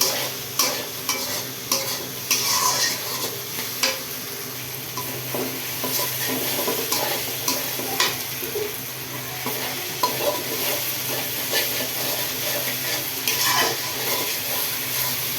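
Spice masala with ginger and garlic sizzling in a pan while being stirred, a loud steady frying hiss broken by repeated scraping strokes of the spoon throughout.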